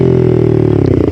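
A 125cc motorcycle engine revs briefly, with a loud, buzzy, steady drone that climbs slightly toward the end.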